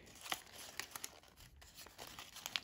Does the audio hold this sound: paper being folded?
yes